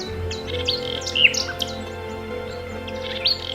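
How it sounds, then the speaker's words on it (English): Nightingale song drifting out of thick vegetation at a nature reserve, a few short whistled phrases and chirps spaced apart over a steady background hum, moderately distant. "over the past 40 years the nightingales have returned"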